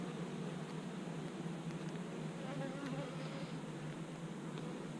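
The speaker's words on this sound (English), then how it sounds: "That's why all the bees are up here, too." Honey bees swarming over brood frames at an open hive, a dense steady buzz close by with no break and no voices.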